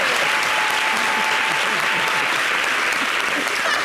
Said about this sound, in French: Merci de l'applaudir quand même